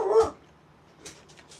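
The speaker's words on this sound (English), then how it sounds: "my dog is going crazy" A dog gives one loud yelp or bark near the start, then faint whimpering and yips trail off over a quiet room, on a Fourth of July weekend evening outdoors.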